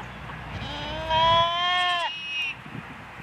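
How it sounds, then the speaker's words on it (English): Goats on a farm bleat in a long wavering cry with strong harmonic overtones, followed by a shorter second call, close and clear above quiet background noise. "Oh, our goats."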